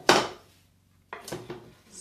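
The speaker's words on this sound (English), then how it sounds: "we are going to put them all in the pot" Chopped vegetables for a vegan three-bean chili dropped into a pot, a sharp clattering knock followed by a second cluster of quick knocks and scrapes close up, no talking.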